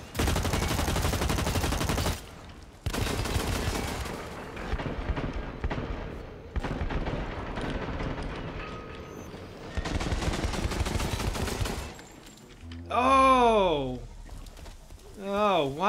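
Automatic gunfire from light machine guns in the shooter Blacklight: Retribution, dense sustained bursts broken by short pauses, loud and close, with game sound effects near the end.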